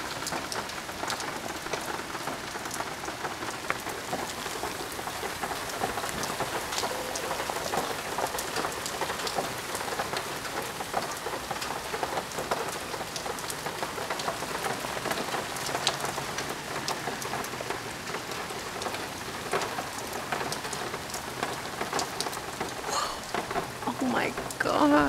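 Steady rain falls throughout a lightning storm during a heat wave, a dense, even patter that continues for the whole stretch, with only a faint rumble beneath it.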